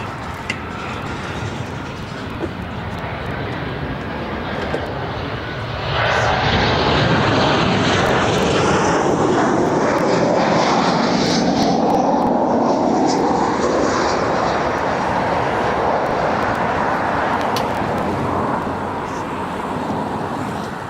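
Air Europa Boeing 737-800, about ten years old, landing at Barcelona after a short flight from Palma de Mallorca; steady jet engine roar swells loud as it passes close overhead, then holds a broad rumble to the end.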